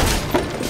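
A quick volley of booming ship cannon fire in the pirate game Pirates of the Caribbean Online, loud, dense low thuds in a short burst with a sharper hit midway.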